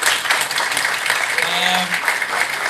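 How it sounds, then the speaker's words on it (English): An audience gives a round of applause for guests at a tech event on Kosovo's startup scene, steady dense clapping filling the room throughout. "a big round of applause for our guests from US"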